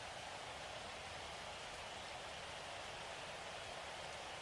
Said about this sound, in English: I like the rain noises, but I could see it getting aggravating for some people.